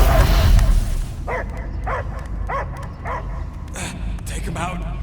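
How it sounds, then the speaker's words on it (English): A dog in the Guardians of the Galaxy video game gives a run of evenly spaced barks and yips over a rumbling game soundtrack. Characters talk around the barking. "I hear only barking."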